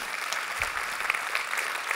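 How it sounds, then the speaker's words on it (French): Audience applause at a business forum session, a steady round of clapping from a modest crowd, moderately loud and continuous for the whole stretch. "On peut vous applaudir, absolument."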